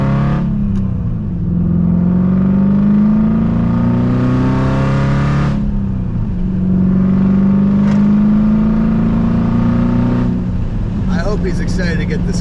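A BMW E34 540i engine drones steadily from inside the car while driving on Tennessee mountain roads, pitch climbing through two long gear pulls with a shift between them, loud and continuous.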